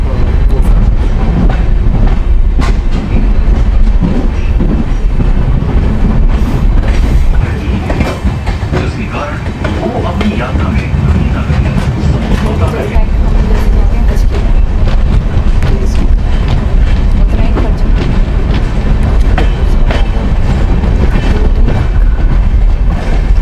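Ramayan Express passenger train running along the rails in India, a loud, steady rumble with clickety-clack wheel rhythm from inside a first-class coach, continuous throughout.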